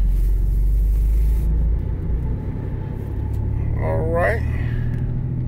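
2000 Nissan Pathfinder driving around town, heard from inside as a steady low engine and road rumble, with someone speaking briefly over it.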